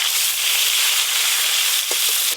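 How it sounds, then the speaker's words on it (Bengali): Tilapia fish frying in hot oil in a pan, a close, steady crackling hiss that holds constant, broken by a couple of brief knocks near the end. "এইবারে মাছ ভাজলেই দাদু সব মাছ ভাজা হয়ে যাবে।"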